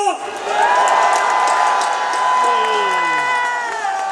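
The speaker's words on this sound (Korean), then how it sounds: "감사의 뜻으로 뜨거운 박수를 한번 보내주십시오" An audience claps and cheers loudly in thanks to the older generations of parents and grandparents, a full crowd roar with whoops, overlaid by a sustained tonal sound that bends downward near the end.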